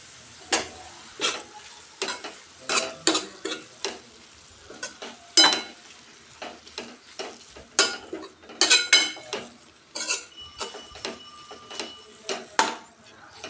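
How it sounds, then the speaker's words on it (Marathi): Soaked lentils are stirred into spring onion greens in hot oil, giving repeated scraping and clinking of a spoon against the pan over a soft sizzle, in irregular bursts up close. "डाळ पण आपल्याला व्यवस्थित त्या पातीमध्ये तेलामध्ये मिक्स करून घ्यायची आहे अगोदर"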